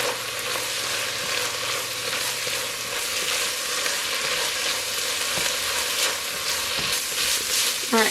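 Ground meat seasoned with onion powder, garlic, salt and pepper frying in a pan for cowboy stew, a dense continuous sizzle with scraping stir strokes and a few sharper clanks near the end, close and with no voices.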